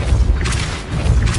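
Casting Depulso in Hogwarts Legacy gives off a brief, heavy magical whoosh with low thumping bursts, loud and close over a short stretch.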